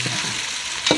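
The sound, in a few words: stirring masala in a frying pan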